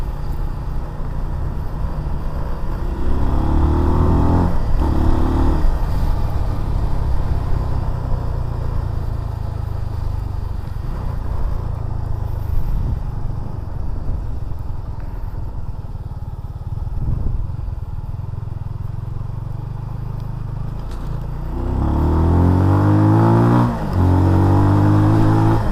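A 2023 Benelli TNT 25 motorcycle on a test ride revs up through the gears with rising engine pitch, then cruises at a steady loud drone and accelerates again near the end, recorded close with no voices.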